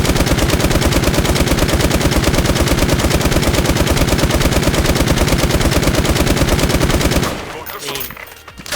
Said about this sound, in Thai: ยิงหัวสองนัดตายเหมือนกันครับ ลองไม่ซูมกันบ้างนะ